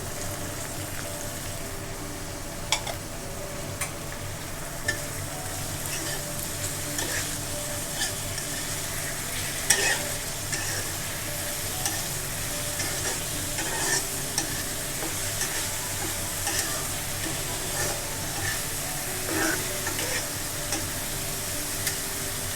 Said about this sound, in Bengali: দিয়ে দিলাম বাঁধাকপি কুচি, দিয়ে দিলাম বরবটি